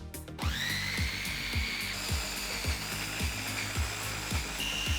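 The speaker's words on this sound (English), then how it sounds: "Give it a little blendy do." A kitchen blender runs steadily on lime and other ingredients, starting with a sharp whir and keeping up a loud, even motor drone with a regular rhythmic thumping for several seconds, no one speaking.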